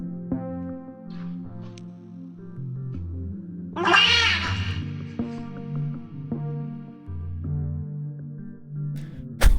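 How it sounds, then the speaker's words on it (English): A cat vocalizes in a replayed video, a loud drawn-out meow or yowl rising suddenly midway over a steady tonal musical bed, with no talk. "A cat."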